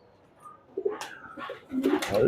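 Soft pigeon coos rise through a short stretch on a rooftop garden, a few low warbling calls growing louder toward the end, with faint background sounds.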